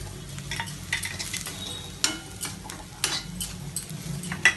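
Masala powders, coriander, chicken masala and garam masala, frying in oil in a kadai, with a steady close sizzle, scraping stirs and a few sharp utensil clinks against the pan.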